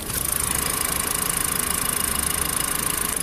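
Maruti Eeco 2025 AC model with its 4-cylinder petrol engine idling and the air conditioning running, a steady close hum with a fine rapid pulsing and a faint high whine, no talking.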